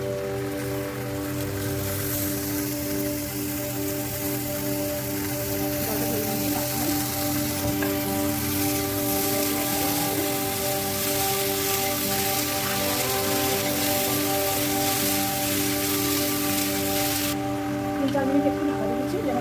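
Mushrooms fry in a pan for homemade mushroom polao, a steady crackling sizzle like rain on a surface heard close throughout, with a sustained tonal hum and voices talking over it.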